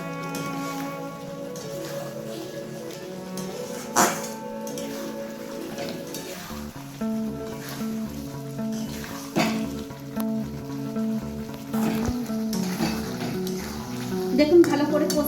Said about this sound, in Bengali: এবার ভেজে রাখা ডিমগুলো দিয়ে দিলাম, দিয়ে একটু ভালো করে কষে নেব।